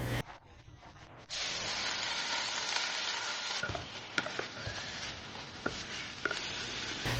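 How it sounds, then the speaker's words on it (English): Minced beef frying in hot oil in a pot: a quiet start gives way to a steady, loud sizzle, with scattered clicks and scrapes from stirring over the hiss. "Heat 1/4 cup oil in a pot and add 1 kilogram minced beef."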